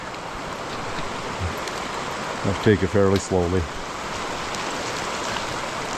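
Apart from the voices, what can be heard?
creek flowing beside a hiking trail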